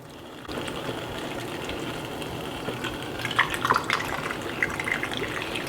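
Water runs steadily into a jar of cucumbers for pickling, a continuous pouring gurgle with a few brighter splashes as it fills.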